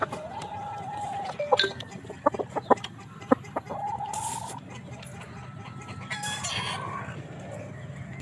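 Gamefowl roosters on a game farm crow and cluck, with several sharp clucks and calls in quick succession followed by drawn-out crows, heard close and clear over a low background hum.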